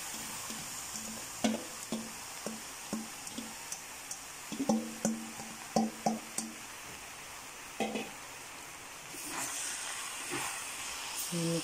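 Ground textured vegetable protein (TVP) goes into a hot pan and is stirred: a string of clicks and scrapes from the utensil over a steady hiss, which swells into a louder sizzle toward the end. No one speaks.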